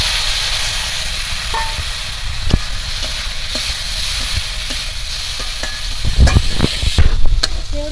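Shrimp dropped into a hot kadai of oil fry with a steady broad sizzle, sharp crackles and pops breaking through, growing busier near the end; no voices.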